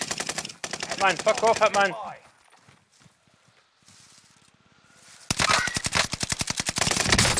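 Rapid automatic gunfire in the video game Warzone, loud bursts of closely spaced shots at the start and again toward the end, separated by a quieter stretch with faint sounds, while someone shouts over it.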